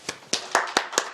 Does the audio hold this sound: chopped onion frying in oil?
no